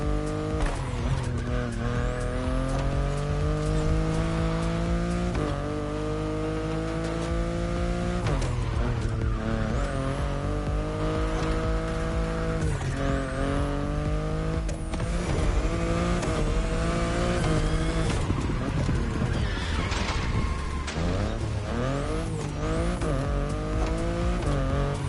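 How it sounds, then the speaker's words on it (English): BMW i8 sports car driven in the racing video game The Crew Motorfest, its engine droning and revving continuously with repeated gear shifts and rising pitch sweeps, loud and close throughout. "the sports car you're driving"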